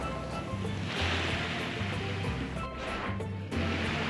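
Ocean waves at Playa Negra, a black sand beach in Costa Rica, a continuous washing surf roar close by with low rumbling surges, no talk.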